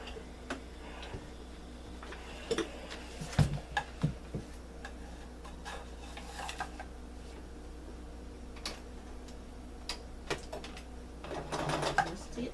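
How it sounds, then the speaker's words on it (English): A home sewing machine back-stitches a seam on a trick-or-treat bag, a faint, quiet ticking run of stitches with a slightly busier burst toward the end. "I'm going to back stitch so that it's secured"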